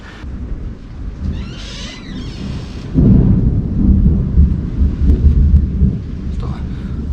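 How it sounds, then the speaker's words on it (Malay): Thunderstorm with rain beating down around a car, a steady wash of rain with deep rolling thunder that swells loud about midway and stays heavy to the end. "keadaan sekarang ni terkena hujan dan ribut"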